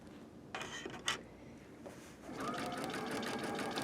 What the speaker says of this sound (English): stitch over that beginning area just a little ways